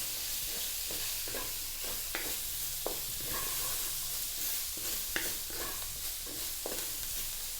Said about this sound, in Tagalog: At this point, ilalagay na po natin yung ating carrots. So again, haluin lang natin sandali.